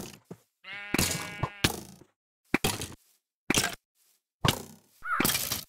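A bighorn sheep in the SevTech Ages Minecraft modpack gives a single wavering, nasal bleat. Sharp cracking hits come before and after it, separated by silence.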